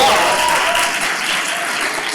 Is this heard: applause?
yes